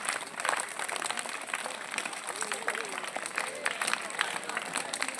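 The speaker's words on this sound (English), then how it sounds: "Jumping jacks along with your clapping." Children clapping in time with jumping jacks during a kids' karate performance, a faint, busy patter of many hands heard at a distance, mixed with crowd murmur and brief voices.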